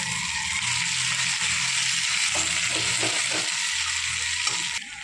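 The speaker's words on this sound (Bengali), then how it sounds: "এবার দিয়ে দিল বেশ কিছুটা পাঁচফোড়ন আর দিয়ে দেবে দুটো শুকনো লঙ্কা" Panch phoron and two dried red chilies sizzle steadily in hot oil after fish heads were fried, a constant loud hiss with faint crackles and a few spoon scrapes, no talking.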